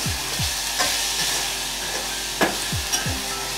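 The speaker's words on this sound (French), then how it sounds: "Et on fait ce qu'on appelle suer des oignons." Chopped onions sweating in a pan over lowered heat for a clementine chutney, giving a steady soft sizzle with light stirring scrapes and occasional utensil knocks against the pan, close and continuous with no talking.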